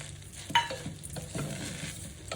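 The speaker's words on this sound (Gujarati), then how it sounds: "ને બધું બરાબર મિક્સ કરી દેવાનું છે" A spoon stirs sugar into fada lapsi in a pan, soft scraping strokes over a faint sizzle, close and quiet.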